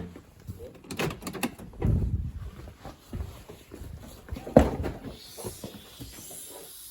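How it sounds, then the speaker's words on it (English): Quiet clicks and clunks from unlocking and opening the rear door of a 2004 Toyota 4Runner, a few short mechanical knocks spread over several seconds with a soft hiss near the end. "Let me unlock the door, I guess"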